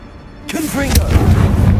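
A Confringo blasting spell fired in Hogwarts Legacy bursts out suddenly after a quiet start, a sharp whoosh followed by a rumbling, lingering boom that stays loud to the end.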